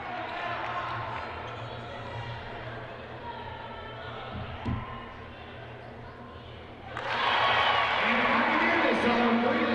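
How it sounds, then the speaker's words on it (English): A basketball crowd at the Gentry Center during a Tennessee State versus UT Martin women's game murmurs under a commentator's voice, then swells abruptly into loud sustained cheering near the end. "Crowd really getting into it as well. The volume at the Gentry Center being turned up."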